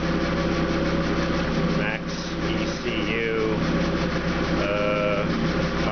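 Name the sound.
Opel GT engine idling with MaxxECU fuel injection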